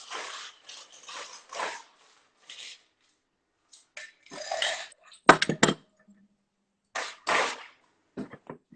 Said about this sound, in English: Top it up with ice.